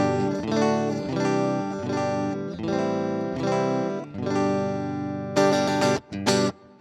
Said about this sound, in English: you're gonna hear just the direct, dry sound of my guitar